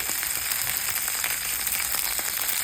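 Onions and peppers sizzle in a pan alongside browned Italian sausage, a steady moderate frying hiss with scattered small pops, close and without talk.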